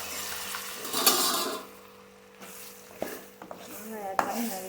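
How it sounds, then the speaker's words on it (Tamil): Cut raw mango is mixed into an instant mango pickle, with a spoon scraping and stirring the spiced pieces in a few uneven bursts and a faint sizzle between them, alongside brief speech. "மாங்காய் ஆட் பண்ணி நல்லா கலந்து விட்டுடலாம்."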